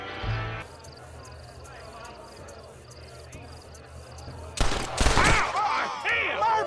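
Gunfire in a Red Dead Redemption shootout, with a burst of loud sharp shots and clattering reports late in the clip after a quieter ambient stretch, while in-game voices talk.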